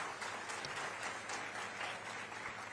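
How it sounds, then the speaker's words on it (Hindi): Applause rises from the crowd at a Chhattisgarh government ceremony handing job letters to young recipients, a quiet but continuous rush of many clapping hands, somewhat distant and unbroken. "और सबके लिए जोरदार तालियां बनती है।"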